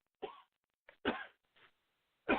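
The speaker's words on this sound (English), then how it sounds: "I'm coughing here." A man coughs in a few short, sharp bursts with pauses between them, close to the microphone against near silence.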